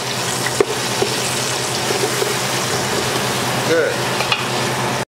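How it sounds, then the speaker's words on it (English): Carrots and other vegetables for couscous sautéing in a pan, a loud, continuous close sizzle with occasional stirring scrapes, while a voice briefly speaks. "now I gotta saute all together with this, and I start with the carrots."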